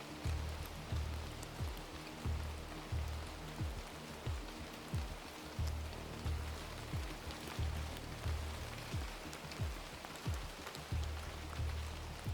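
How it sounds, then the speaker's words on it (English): Steady rain falls during a night stop at a truck stop just inside the Nevada state line, a dense continuous patter with low rumbling pulses beneath it, no voices. "Rain has been coming down for the last 2 hours."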